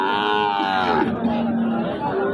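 Sahiwal bulls at a cattle farm give a long, drawn-out moo that rises and then fades over a couple of seconds, loud and nearby above a low background hum.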